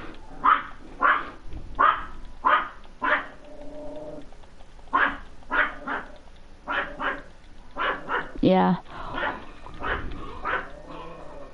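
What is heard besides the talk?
dog barking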